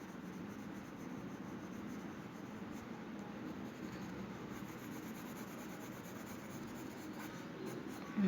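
Pencil shading on paper during a drawing, a soft, steady scratchy rubbing that runs continuously and close, faint and alone without talk.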